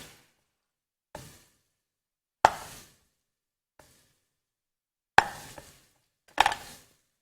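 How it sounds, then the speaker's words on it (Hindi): Tomatoes being chopped with a knife on a board: five or six sharp, isolated thunks spaced about a second apart, close and clear against near silence, no voices. "टमाटर को मैं चॉप कर लेती हूँ।"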